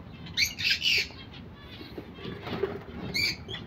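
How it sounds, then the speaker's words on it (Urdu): Pet parrot kept at a date-processing business, letting out several loud harsh squawks in bursts, near and clear, with quieter chatter and background noise between calls. "دیکھیں آواز بھی کر رہا ہے ماشاء اللہ سے۔"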